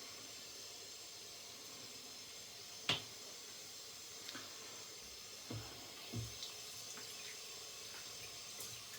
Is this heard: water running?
yes